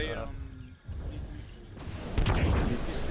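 A Solitaire mech in MechWarrior Living Legends takes gunfire hits: a rumbling stretch of impacts, a short drop, then heavier booming blasts that build toward the end, with a voice talking in places.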